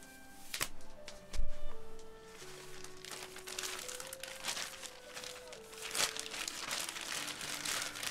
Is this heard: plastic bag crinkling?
yes